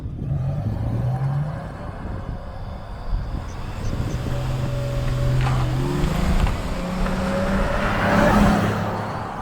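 A 2024 Lexus TX550h+ AWD plug-in hybrid with a V6, in sport mode with traction control off, launching hard: loud steady engine drone climbing in pitch with rushing wind, continuous and close throughout.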